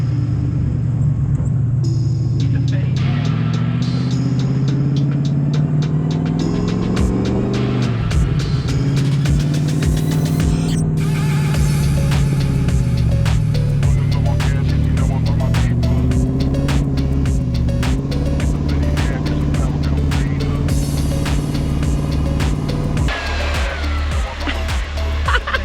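A rear-steer rock buggy grinding along on snow tracks, its engine droning loud and close throughout with shifting pitch as it labors and revs, accompanied by clatter and rattling from the tracks.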